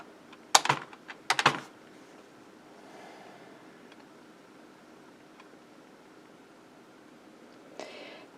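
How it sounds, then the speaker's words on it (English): Quick bursts of computer keyboard typing, two short clusters of crisp key clicks close by, then quiet room tone and a faint final tap near the end. "Let's try typing 4 into this description box and see what happens."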